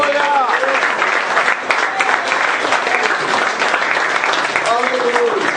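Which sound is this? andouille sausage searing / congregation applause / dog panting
congregation applause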